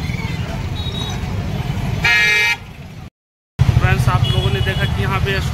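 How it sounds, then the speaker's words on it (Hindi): Road traffic passes a crowded exam centre in Bihar, with a loud car horn blast in the middle and other horn toots over a steady rumble, while voices chatter throughout. "गाड़ी घोड़ा भी जा रहा है।"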